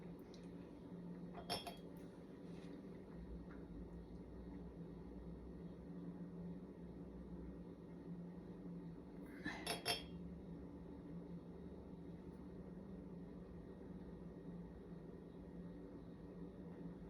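A translucent cobalt blue glass dessert dish being handled: two brief, faint glassy clinks several seconds apart in an otherwise quiet room with a low background hum.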